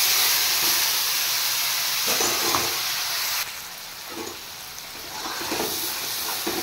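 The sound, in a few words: spice paste frying in pan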